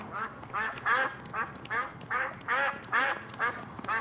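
A duck quacks repeatedly in a steady rhythm, about eight loud, nasal calls close up, used as a sound effect with no talk over it.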